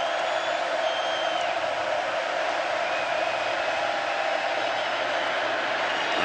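Stadium crowd at a Texas A&M versus Alabama college football game, a constant dense roar of many voices at a steady, even level with no breaks.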